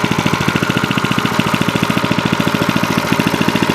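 Small Harbor Freight engine fitted to an Ariens tiller runs steadily on its own power, a loud, close, rapid chugging pulse holding an even rhythm throughout.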